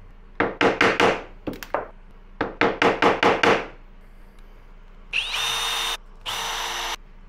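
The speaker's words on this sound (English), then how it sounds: "this is a good way to break a drill bit" A power drill whirs in several short, rapid bursts of grinding pulses, then runs in two longer steady high-pitched stretches, close and loud.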